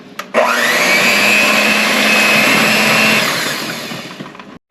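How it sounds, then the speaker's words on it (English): A regular handheld electric mixer whirs steadily through banana pudding in a bowl, loud and close, starting with a sharp switch-on, holding a constant motor drone, then easing off before cutting out. "We're just going to use the regular handheld mixer here."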